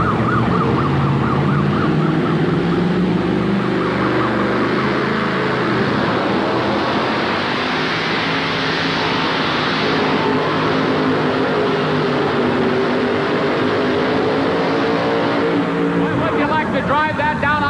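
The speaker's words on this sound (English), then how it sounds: "Oh, listen to that engine." A 1988 police van pulling truck at a truck and tractor pull in Hampton, Virginia roars loudly and steadily for the whole stretch, a continuous high-revving engine wail with shifting pitch, while an announcer talks over it.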